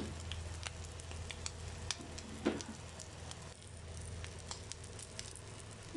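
Chicken shami kababs fry in a pan with a steady, quiet sizzle and scattered light pops and crackles, and one brief louder spatter partway through.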